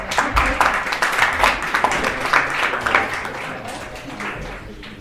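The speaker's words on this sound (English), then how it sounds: "Come on stage and they'll do a warm applause." Audience applause at a livestreamed hackathon presentation event as presenters come on stage, steady dense clapping of a crowd lasting throughout and fading slightly toward the end.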